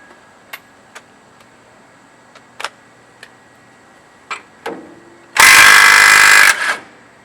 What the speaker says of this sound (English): I'm going to run it in with the impact.